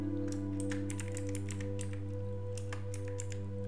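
Keys tapped in short irregular bursts on a computer keyboard while entering a machine name in VirtualBox, soft clicks over a steady low electrical hum, no talking.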